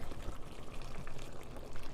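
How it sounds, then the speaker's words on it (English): About a cup of water being poured into a one-pot chicken and spinach dish with tomato and onions, a steady bubbling, liquid wash close by with no talking. "And now I'm going to add just 1 cup of water."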